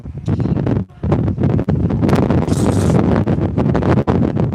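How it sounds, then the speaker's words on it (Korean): Strong wind blowing near Ilsan Beach, roaring and buffeting the microphone loudly and continuously with brief dips. "바람 분다"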